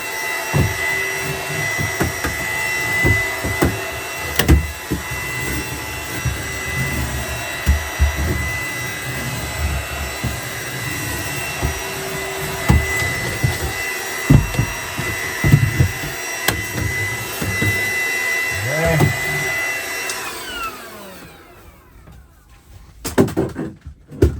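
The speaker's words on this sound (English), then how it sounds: "let's get our handy dandy vacuum here. Do the best we can to vacuum up everything." A vacuum cleaner runs continuously inside a Brinkley 3610 RV while debris is sucked up after removing a dryer, its steady whine broken by knocks, bumps and scraping before the motor cuts off near the end.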